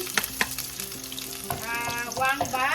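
Garlic dropped into a hot pan for chicken adobo made without soy sauce, frying and sizzling close up with stirring clatter and scraping, the crackle building as it goes.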